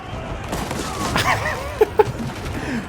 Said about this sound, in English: All of the cannons basically just turn around quickly to one-shot their units.